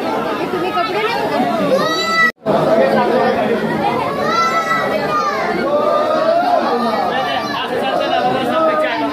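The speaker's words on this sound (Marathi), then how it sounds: "मंदिरात अशी भरपूर अशी गर्दी आहे." A dense crowd of pilgrims chatters at the Tirupati Balaji temple in Andhra Pradesh, a steady close babble of many overlapping voices with a brief dropout early on.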